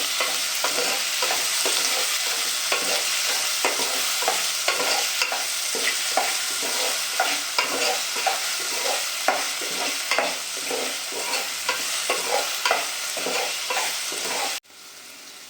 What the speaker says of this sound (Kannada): ಅದಾದಮೇಲೆ ಟೊಮೆಟೊನ ಹಾಕ್ಕೊಂಡು ಇದನ್ನು ಸ್ವಲ್ಪ ಮಿಕ್ಸ್ ಮಾಡ್ಕೊಂಡ್ಬಿಡೋಣ.